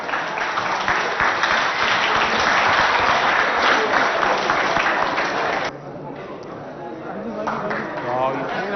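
An audience at a school poetry recitation contest claps loudly and steadily, then the applause drops off suddenly, and a voice speaks briefly over the quieter remainder.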